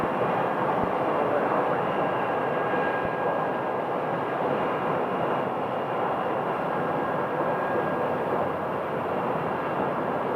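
American Airlines jet airliner at Phoenix Sky Harbor airport, a steady, loud broadband engine roar sustained throughout with a faint tonal whine, no talk over it.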